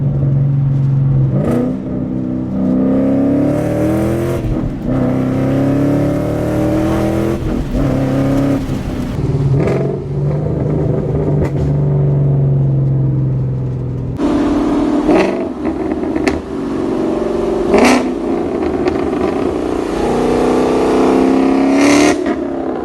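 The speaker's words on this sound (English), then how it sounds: "I hope you enjoyed that little teaser of the exhaust clips." A car engine revs hard through an SVE off-road X-pipe exhaust, loud and close, climbing and falling in repeated pulls with sharp throttle blips and a steady rumbling idle between them.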